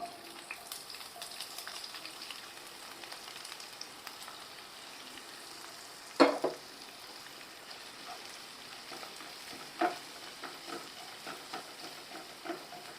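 Onions sizzle softly and steadily in a pan while cooking capsicum chicken, with a couple of brief clanks of a utensil against the cookware.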